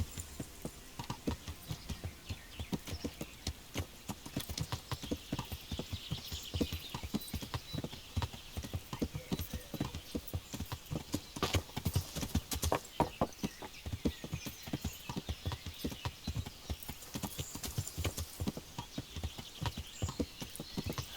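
Horse hooves clip-clop steadily in the Kingdom Come: Deliverance video game, a continuous rapid rhythmic patter of footfalls at close range, as if riding over rough terrain, with no talking.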